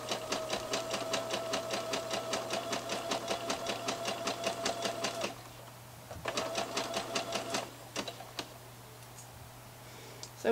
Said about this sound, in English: with a regular sewing machine as well.